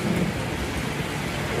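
Rain pours as a thick, constant hiss under a low thunder rumble, played as a sudden storm effect indoors at a house; the wash stays loud and even throughout, with no one speaking.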